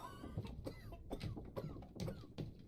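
Repeated, rhythmic coughing from a sick sailor in the video game Return of the Obra Dinn, several harsh coughs in a row at moderate volume.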